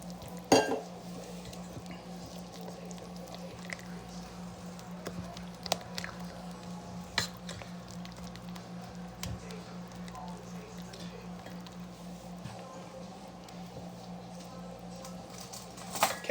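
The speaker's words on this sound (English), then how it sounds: "Let's stir those in well." A spoon stirs chilled vegetables into a Creole remoulade sauce in a bowl, soft wet scraping with occasional light clinks against the dish, quiet and close throughout.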